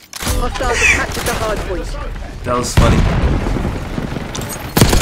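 Grenade explosions in Black Ops 6 multiplayer boom and rumble in bursts, several blasts in a few seconds, while a voice talks and laughs over them.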